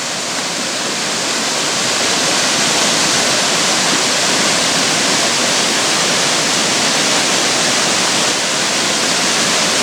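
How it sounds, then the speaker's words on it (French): Saut du Loup waterfall in a small cirque at Mont Dore, a steady, loud, broadband roar of falling water that stays constant and close throughout, with no voices. "Voilà la cascade du Saut du Loup."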